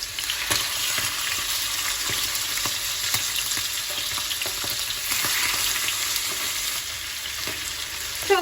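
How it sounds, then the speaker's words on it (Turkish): Steady, crackling sizzle of chicken frying in hot oil, continuous throughout, with occasional clinks and stirring sounds. "kızartacağım"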